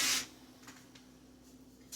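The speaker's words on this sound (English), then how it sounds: "we are going to spray it with a little non-stick cooking spray" A short hiss of non-stick cooking spray fired into a Pyrex glass baking dish, one brief burst at the start, then quiet with faint later puffs.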